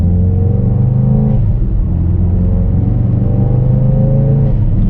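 A car engine revs steadily with a raspy, buzzy exhaust note, loud and close, pitch rising and falling slightly as it accelerates.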